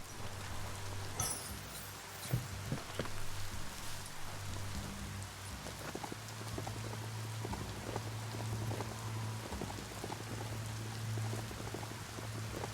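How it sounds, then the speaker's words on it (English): Rain falling steadily on a surface in the video game Biomutant, dense patter of drops with a low droning hum underneath and occasional louder drips. "Oh no! Rain!"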